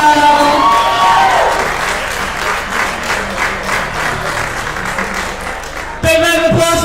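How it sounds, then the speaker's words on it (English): A crowd at a masters powerlifting meet applauds and cheers steadily for several seconds after a 455-kilo lift, a dense wash of clapping with whoops, then a brief louder voice cuts in at the end. "Big round of applause for John"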